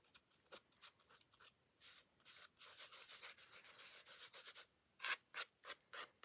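Colour is rubbed onto a craft project by hand in short, dry scratchy strokes, soft and close, coming in irregular bursts with brief pauses between them.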